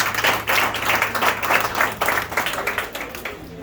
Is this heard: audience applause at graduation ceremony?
yes